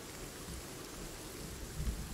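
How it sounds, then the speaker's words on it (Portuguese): Heavy rain pours steadily in the survival game Sons of the Forest, a dense even hiss with a faint low rumble near the end and no talking. "o chuvarão."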